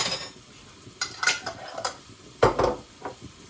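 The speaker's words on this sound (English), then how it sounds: "So add the garlic." Garlic goes into a pan for a vegetable soup and is stirred, giving a few sharp clatters of a utensil against the pan over a faint sizzle.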